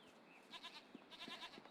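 Goats bleat several times in quick succession in the video game Jade Empire, fairly faint and a little distant, with no talking.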